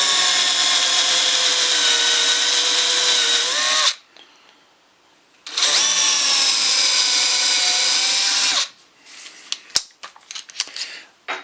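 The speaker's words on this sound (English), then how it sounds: "we'll use the same 3/8 inch Forstner bit, and we'll drill about 3/8 inch in" Two long bursts of a power drill boring into wood with a 3/8 inch Forstner bit, a steady high whine each lasting about four seconds, close by, followed by a few scattered clicks and knocks.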